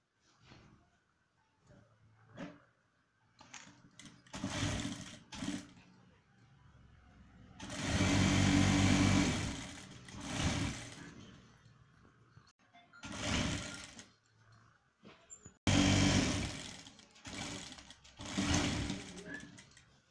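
Sewing machine stitching the half sleeve of a men's pleated kameez, running in repeated bursts of steady mechanical whirring that start and stop, with quiet pauses between runs.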